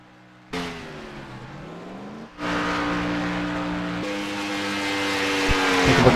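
Race cars in the iRacing sim roar past with steady engine drones that shift pitch as they pass and accelerate, loud and continuous with no talk over them.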